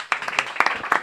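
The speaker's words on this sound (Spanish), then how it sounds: "pido un aplauso para él" Audience claps at a book presentation in a Casa del Libro store, a brief scatter of separate, crisp hand claps close by, unevenly spaced, with no talk.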